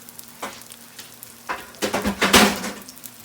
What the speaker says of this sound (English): it just takes a minute to fry them on both sides